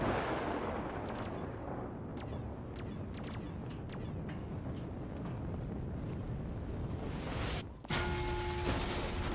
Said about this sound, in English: as you guys can tell, that is the rocket hitting the floor